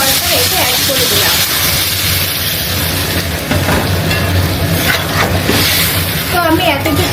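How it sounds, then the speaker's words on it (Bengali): Water poured into papaya and potato frying in a pan for a curry gives a loud, steady hiss and sizzle that runs throughout, with a voice talking over it. "তো আমি এখন ঝোলের জন্য জলটা এতে অ্যাড করে দিলাম।"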